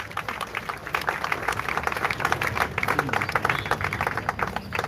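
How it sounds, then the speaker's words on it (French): Applause from a crowd at a funeral gathering in mourning: many hands clapping in a dense, moderately loud patter that holds steady throughout, with murmuring voices faintly underneath. "de bien vouloir applaudir pour celles que nous sommes en train de pleurer en ces jours"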